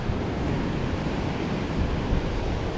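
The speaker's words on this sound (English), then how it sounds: "today is a bit windy" Steady, rushing wind on a winter day in Can Picafort, Mallorca, roars and buffets the microphone throughout, a continuous broadband noise with no voices.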